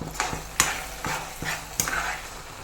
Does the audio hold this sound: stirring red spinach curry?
yes